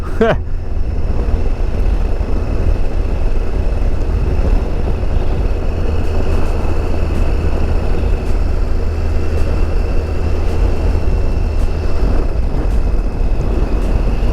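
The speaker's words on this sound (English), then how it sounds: "I'm engine braking the whole way in third gear." Motorcycle engine held in third gear under engine braking on a downhill stretch of twisty road, a steady droning rumble mixed with heavy wind buffeting throughout, continuous and close.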